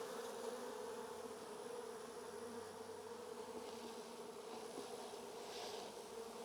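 Honey bees from a hive being sampled for varroa mites hum in a steady, low, continuous drone, faint and close throughout with no talking.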